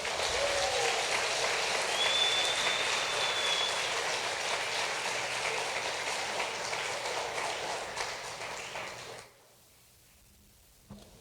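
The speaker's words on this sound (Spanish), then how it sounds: "Dale un aplauso al Señor." A church congregation applauds in a steady, dense roar of clapping that holds for several seconds, then stops abruptly and leaves near-silence.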